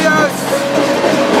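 Close, loud rumble of a moving freight train heard by someone riding aboard, with steady rolling noise and a faint squealing tone, and a voice talking over it.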